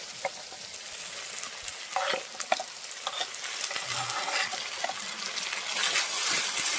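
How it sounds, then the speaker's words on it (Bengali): Green and dried chili pastes fry with rohu fish in a pan for a village-style fish curry with potatoes, making a continuous bubbling sizzle with occasional stirring scrapes and clinks close by, no talking. "সব কিছু একসঙ্গে ভালো করে ভেজে নেব।"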